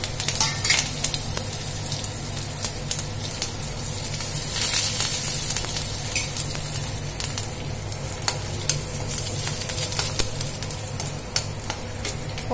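Cumin, mustard seeds, curry leaves and dried red chilies fry in a little hot oil, giving a continuous crackling sizzle with scattered pops and spatters, close and steady, with no talking.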